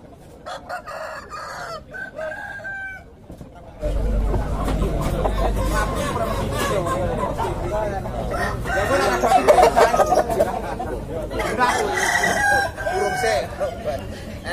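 Several Bangkok-breed roosters crow loudly over a busy background of clucking chickens and the murmur of people at a crowded chicken market in Kras, Kediri.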